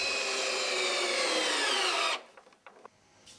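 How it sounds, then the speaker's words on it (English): A power driver sinks a batten screw into a timber roof batten, a loud steady whirring grind for about two seconds that stops abruptly, followed by a few faint knocks. "Here they are being used to hold roof battens down against the wind."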